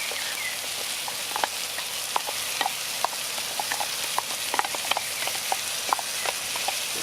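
Onion and ginger fry in a restored cast-iron Dutch oven set on a Weber kettle grill. A continuous sizzle runs throughout, broken by scattered scraping clicks as a utensil stirs the pan, with no speech.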